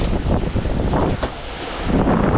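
A squall hits a sailboat crossing the Pacific Ocean: loud wind roars and buffets the microphone while waves rush and wash around the hull in surging bursts, with no voices.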